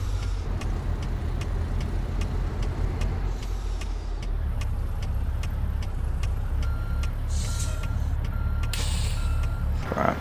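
Truck reversing beeps from American Truck Simulator, a steady run of evenly spaced electronic beeps over a constant low engine rumble from a short-nosed cab-over truck with a long trailer, with a brief air brake hiss near the end.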